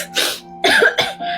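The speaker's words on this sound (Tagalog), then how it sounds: "Naku, inuubo po kayo." A person coughing in a short burst of three or four harsh, close coughs in quick succession, loud and alone.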